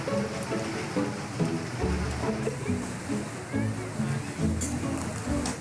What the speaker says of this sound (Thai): ตะกี้ฝนตกหนักครับ